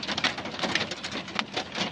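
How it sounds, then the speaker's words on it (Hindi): Rain mixed with hail patters steadily on surfaces outdoors in Pakistan, a dense crackling rush with irregular sharper impacts throughout. "ये देखो ओले पड़ने शुरू हो गए"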